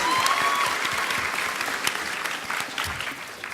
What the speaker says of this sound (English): let's get a little round of applause for Edward Kenway.